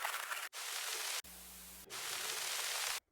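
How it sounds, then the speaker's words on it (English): Soft vinyl hissing crackle and static noise play in short segments, switching abruptly between brighter and duller textures, with a low hum in one section. "I really vibe with these vinyl crackles."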